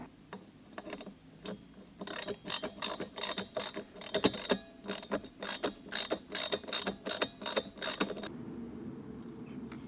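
Quick metallic clicking from spanners tightening bolts beneath a car gear shifter during a stabilizer bush refurbish on a Honda Civic Aerodeck, a dense run of sharp ratchet-like ticks lasting several seconds, close by, with no speech.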